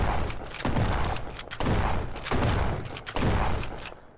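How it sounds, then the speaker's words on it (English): Rapid bursts of gunfire from a weapon in the video game No One Survived, several quick volleys in a row, loud and close with brief gaps between them. "Let me fire a couple shots off."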